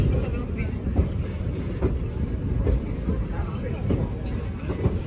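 Kettle Valley Steam Railway train with two vintage XCP passenger cars at the tail end, rolling along with a steady low rumble and faint rhythmic clatter, a continuous moderately loud sound.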